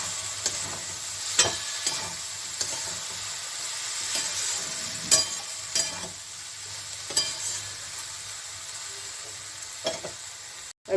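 Spring onion curry fries in a pan with a steady, close sizzle and hiss, broken by occasional scraping knocks as it is stirred. No one speaks.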